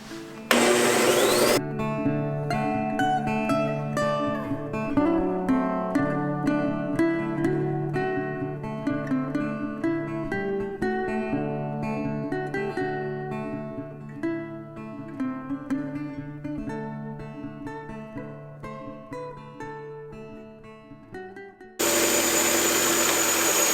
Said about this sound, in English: This other sanding machine has a roll with sandpaper that will obviously spin, but also moves up and down